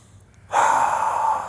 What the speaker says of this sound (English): Give me one more big breath.